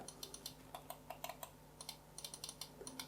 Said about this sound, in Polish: I teraz ją sobie wyklikajmy, przyciski boczne.